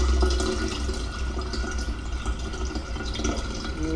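Water pours steadily from a jug into a large jar, a continuous close splashing trickle that holds at an even level for a few seconds with no speech.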